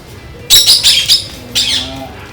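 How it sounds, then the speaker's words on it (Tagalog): A ringneck parakeet gives a burst of loud, close, harsh chirping calls, four rapid notes followed by a shorter pair, at a breeder's home with exotic birds, no voices. "Ito, ringneck din to. Lahi din ng parrot."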